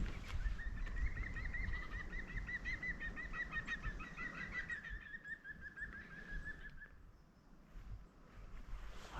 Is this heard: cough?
no